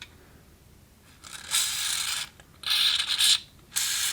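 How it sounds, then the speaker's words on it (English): Tappet compressor tool pressing tappets back into a CP3 diesel injection pump, giving three bursts of close, bright metallic clicking and scraping separated by short pauses. "be careful when you're pressing them back in that you're actually staying on the edge with your tappet compressor tool"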